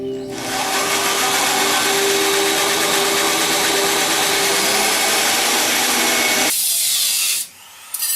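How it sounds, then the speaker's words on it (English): A power tool grinds steadily through the rusted base of the B-pillar on a 1966 BMW Neue Klasse 2000c, loud and close for about six seconds before cutting out, with a short burst again at the end. "time to cut the base of the B-pillar away"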